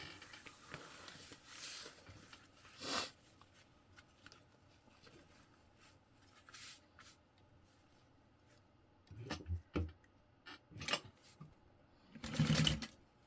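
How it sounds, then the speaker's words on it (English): A sewing machine stitches a zipper onto a handbag in short, scattered bursts of rapid clatter with quiet pauses between, loudest near the end. "I'm sewing, making a tutorial"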